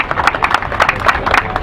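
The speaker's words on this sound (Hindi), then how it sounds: "तालियां मिलके बजाया करो दोस्त।" An audience claps together at a Hindi poetry recitation, a brief burst of fairly loud, rhythmic applause from a crowd nearby.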